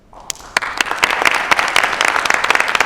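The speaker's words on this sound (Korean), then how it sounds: "김수지 선생의 발표를 박수로 청하겠습니다." Applause from an audience at an academic conference starts with a few separate claps and quickly swells into steady, close clapping that keeps building through to the end.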